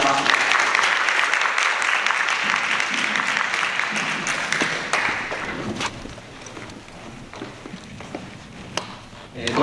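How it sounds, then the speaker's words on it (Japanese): A university hall audience at a student speaking event applauds as a speaker is introduced, a broad steady wash of many hands clapping that gradually thins and fades into scattered claps. "拍手お願いします。"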